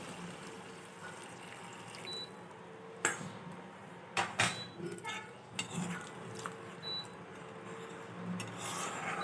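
Goat meat curry being stirred in a pot with a spoon, soft scraping and rubbing against the metal with a few sharper clinks and knocks, fairly quiet, with faint speech in the background.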